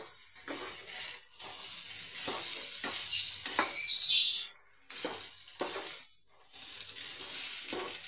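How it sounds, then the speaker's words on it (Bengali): Masoor lentils and bitter gourd fry in a pan, the sizzle rising and falling with bursts of stirring and scraping, broken by a couple of short pauses. "মুসুর ডাল আর উচ্ছেটা দিয়ে আমি একটু ভেজে নেব"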